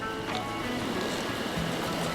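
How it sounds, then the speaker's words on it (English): A canoe is paddled across a shallow, fast-flowing river in Hokkaido, with steady rushing water and splashing all around, close and continuous. "And let's just ferry out across, paddling forward."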